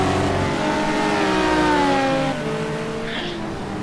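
A Porsche race car engine in Gran Turismo 2 holds a steady, loud drone as it accelerates, its pitch climbing slightly and then easing off, with a brief higher squeal near the end.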